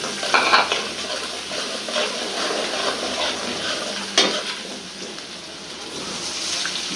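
Onions sizzle in hot oil with spices while shak is cooked with egg, giving a steady broadband frying hiss with brief stirring clatters and one sharp clink near the middle; no talking.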